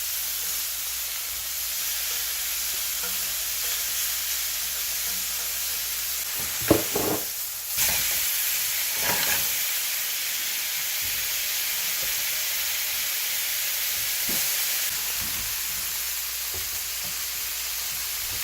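A steak sears in a hot pan, giving a steady, loud sizzle and hiss that runs the whole time, with a brief clatter or shift partway through as the meat is moved.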